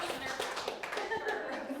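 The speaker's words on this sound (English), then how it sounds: "give yourselves a round of applause, that was wonderful." A small group gives a brief round of applause, scattered claps mixed with speech and light laughter.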